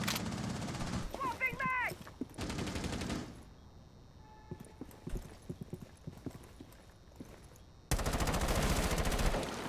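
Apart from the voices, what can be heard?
gunfire in a video game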